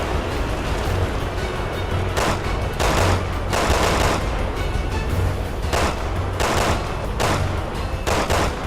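Sustained automatic gunfire and bursts of shooting in the video game Resident Evil 6, continuous loud rattling with heavier blasts recurring every second or so, no talk.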